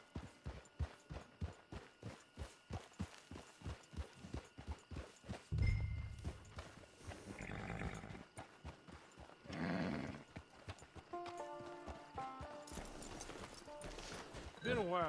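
Horse hooves in the Red Dead Redemption 2 video game clip-clop in a brisk, even rhythm for several seconds, then stop as voices speak over game ambience and music.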